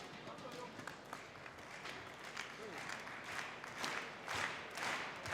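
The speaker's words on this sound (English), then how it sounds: "And now the crowd is waking up again." Crowd applause at a German Open badminton men's doubles quarterfinal in an arena, a rippling wash of clapping that swells toward the end while a commentator talks over it.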